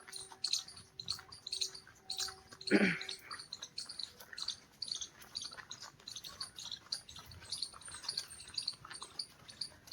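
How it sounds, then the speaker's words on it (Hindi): Birds calling in a dense, rain-soaked forest near farm fields, with repeated short chirps and calls scattered over a soft ambient background, joined by one louder, brief close sound partway through. "देखो आवाज़ सुनो पक्षियों की"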